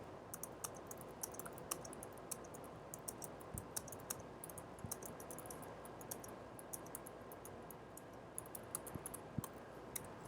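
Keys on a computer keyboard clatter in quick irregular bursts of soft clicks while code is written, faint and close with a few heavier thumps, no voices over them.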